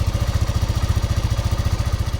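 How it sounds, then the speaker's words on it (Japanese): A Honda Grom motorcycle with 130,000 km on its horizontal engine idles nearby, its low thumping pulses quick and even with faint cam chain noise, steady for the whole stretch with no speech. "それでは現在のエンジン音をお聞きください。"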